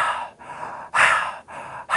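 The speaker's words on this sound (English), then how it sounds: "this is non-sexual breathing" Audible breaths drawn in and let out, demonstrating ordinary non-sexual breathing: three or four close, breathy gasps and sighs in a steady rhythm, alone with no speech.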